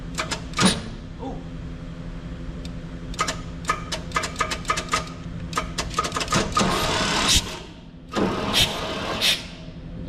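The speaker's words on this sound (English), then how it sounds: "so the motor turns over" The engine of an abandoned 1971 Chevy K-20 pickup cranks over with a jumped wire. Rapid clattering starter pulses run for several seconds, then come a brief pause and a second short burst of cranking, close and fairly loud.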